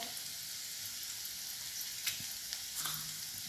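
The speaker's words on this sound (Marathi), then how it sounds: "लसूण छान असं लालसर भाजून घ्यायचे आपल्याला तेलामध्ये" Garlic, curry leaves and cumin sizzle in hot oil in a pan, a steady, close crackling hiss with a few louder pops and a brief stir scrape near the end.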